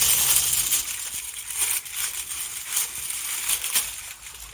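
Crisp crinkling and rustling of thin tissue paper in a box, close by, in a few soft bursts with brief pauses between handling.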